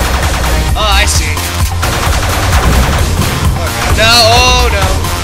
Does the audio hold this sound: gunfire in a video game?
yes